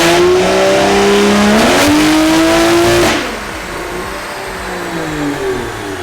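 A 1JZ-powered Toyota Soarer on a dyno revs hard and loud, its engine note climbing in pitch through about three seconds before the throttle drops off into a lower, settling idle-like drone.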